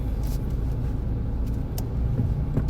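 Road traffic on an afternoon street, a steady low rumble of cars passing close by with a couple of brief hissing swells, continuous throughout with no talk.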